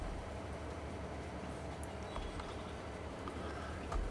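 A train rolls along in the farming video game Farming Simulator 22, a steady low rumble with faint rhythmic clatter, continuous and fairly quiet, with no talking.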